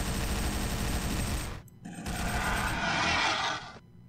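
Machine gun fire in the mobile shooter Cemetery Warrior 3: a dense, loud, continuous burst of rapid shots, a brief break, then another roaring burst that trails off.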